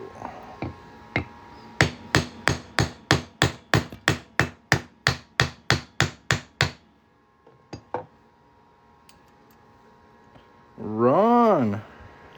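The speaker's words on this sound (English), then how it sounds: "we're just going to hammer that right through the middle" Hammer blows strike a punch through the middle of a 2002 or 1940 half dollar coin in a fast, even run of about fifteen sharp metallic hits, then a couple of stray taps and a brief voice.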